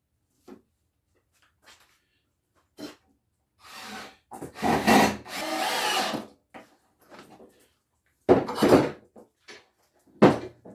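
A power drill drives 1 5/8 inch screws into the legs of a wooden tiered garden planter in a few short, close bursts of whirring, set among quiet clamp and wood-handling knocks.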